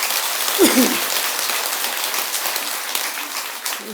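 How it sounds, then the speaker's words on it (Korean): Applause from a temple dharma-assembly audience at Beomeosa for a choir, dense steady clapping that fills the whole stretch, with a brief voice near the start. "잘했다고 생각하면 박수 한 번 더 보내주세요"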